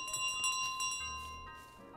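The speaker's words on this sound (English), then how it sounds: "I can't run because it makes my bell ring." A small bell in Untitled Goose Game jingles in quick, bright repeated rings that trail off, heard close and clear with no speech over it.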